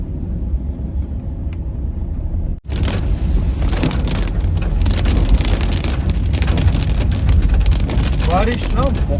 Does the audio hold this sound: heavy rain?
yes